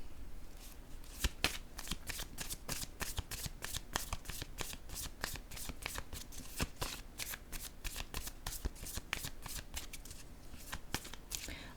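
Tarot cards shuffled steadily by hand, a continuous run of crisp riffling flicks repeating rapidly and evenly at close range with no talk over them.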